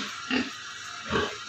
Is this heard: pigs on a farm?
yes